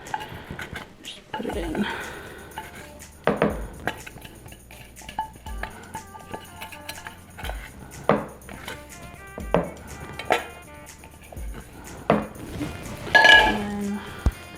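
A utensil scrapes and clinks against a bowl holding salt and eggs in repeated short strokes, close and fairly loud, with a person talking between the scrapes.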